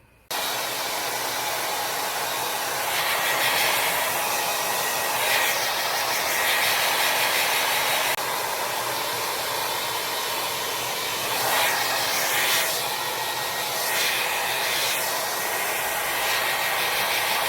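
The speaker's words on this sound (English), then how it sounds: "And then we're gonna get into blow drying." A hair dryer blows steadily on short pixie-cut hair, a constant loud airy rush whose tone shifts now and then as the airflow moves around the head.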